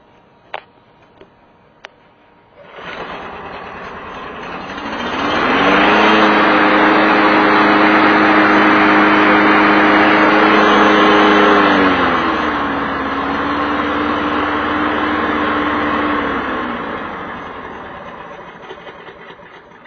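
A Snapper push mower engine, overfilled with oil, catches after a few light clicks and roars into a loud, steady run close by, then settles to a slightly lower, even drone.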